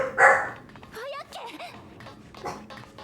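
A dog barks loudly and close by in a home at night, with a short sharp burst at the start followed by softer whimpering yips, while people talk.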